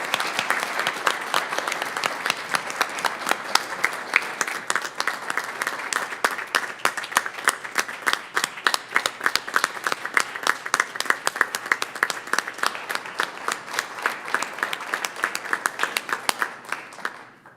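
An audience applauds at a Roswell city council meeting, a steady round of many hands clapping that stays even and fairly close for the whole stretch, fading slightly at the very end.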